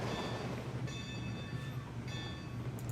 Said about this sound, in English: We're going to ring our bell too here.